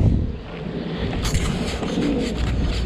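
A pigeon coos softly outdoors near a murky pond, the low cooing faint and mixed into steady ambient noise and rustling.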